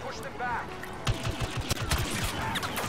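Rapid gunfire in Star Wars Battlefront, with a quick run of sharp close shots cracking out in a steady rhythm over a busy game background.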